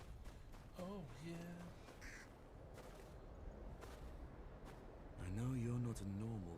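A crow caws in the Game of Thrones Kingsroad video game, several harsh calls spread through the clip over steady background game sound, with a louder run of calls near the end.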